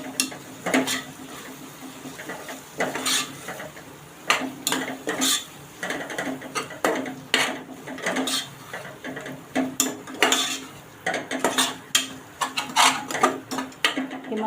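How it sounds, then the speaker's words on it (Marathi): Spices such as cumin powder and garam masala being stirred and sautéed in oil in a pot for a bean khichdi: steady close scraping and clinking of a spoon against metal over a soft sizzle, continuous throughout with no talk. "आपण आता हे सर्व मसाले ना परतून घ्यायचे"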